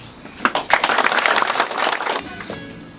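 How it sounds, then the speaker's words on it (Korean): Audience applause at the opening of a Korean political party candidate's campaign office in Daejeon, a burst of many hands clapping that starts sharply, holds steady for about two seconds, then cuts off into room quiet. "박수 좀 많이 쳐주세요"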